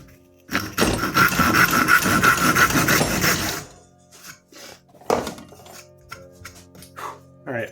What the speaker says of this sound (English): I'll do a test piece with a random chunk of wood to see if the kerf of the saw is actually wider